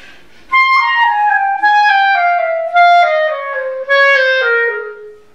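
A clarinet plays quick groups of sixteenth notes in descending runs, each group starting louder and then fading, heard close and alone in a practice exercise from an advanced clarinet method.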